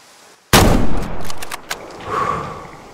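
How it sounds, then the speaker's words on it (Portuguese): A single loud rifle shot cracks out in the Way of the Hunter hunting game, followed by a rolling echo that fades over a couple of seconds. "Bom disparo."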